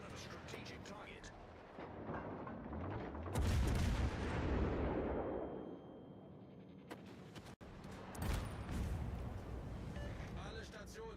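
Heavy gunfire from a destroyer in a naval video game booms out in a loud rumbling burst that slowly decays, followed by a sharp crack and further blasts, with radio-style voices talking over it.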